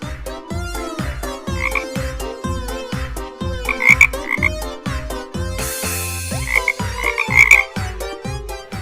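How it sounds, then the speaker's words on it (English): Frogs croak loudly and rhythmically, a fast pulsing chorus of repeated calls that fills the whole stretch, with brief higher chirps and a short burst of hiss partway through. "hundreds of frogs started raining down from above."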